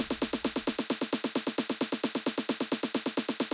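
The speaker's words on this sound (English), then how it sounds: "We've got this snare, which is mainly just being used for snare rolls." A fast, continuous electronic snare roll, rapid even hits blurring into a sustained buzzing rattle throughout.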